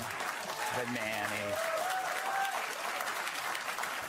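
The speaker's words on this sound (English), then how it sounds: "How could you applaud that?" Applause from a rally audience, a steady wash of clapping and crowd noise heard faintly in the background under someone speaking over it.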